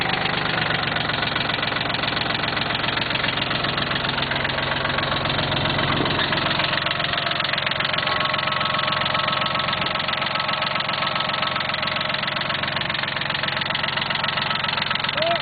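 A Cub Cadet diesel engine idles steadily, a close, continuous low rumble with an even knocking pulse that holds throughout.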